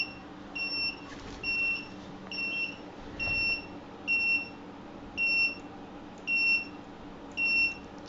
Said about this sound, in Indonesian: Jika jarak mobil dengan dinding semakin menjauh, maka buzzer akan terputus-putus semakin lama waktu matinya